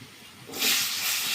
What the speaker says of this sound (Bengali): এবার আমি টুকরো করে রাখা আলুগুলো দিয়ে দেবো আগে।